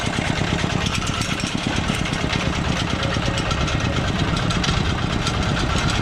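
A vehicle engine driven in third gear while spreading agricultural lime over a field, heard close and loud as a steady, continuous rumble with no talking.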